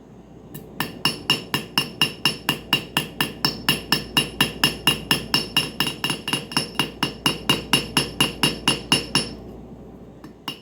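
Rapid, evenly spaced hammer blows ring sharply on a metal strip being forged into a bangle, dozens in a steady rhythm, close and loud, then stop.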